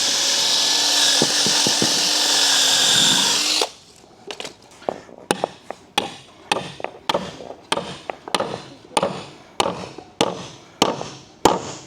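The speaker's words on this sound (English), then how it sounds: "drill a 1/2-inch hole in this base so we can get the carriage bolt through" An electric drill whines loudly as it bores a half-inch hole into a wooden base for a few seconds, followed by a series of sharp, irregular knocks and taps.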